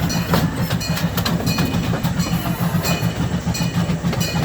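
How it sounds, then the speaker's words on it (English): A gas-powered handmade replica of an 1863 Central Pacific steam engine rolls along on a boardwalk entertainment-complex ride, a loud, steady rumble with rapid rhythmic clickety-clack of the wheels on rails, no voices. "a gas-powered handmade replica of an 1863 Central Pacific steam engine train that will take you through this 60-acre entertainment complex"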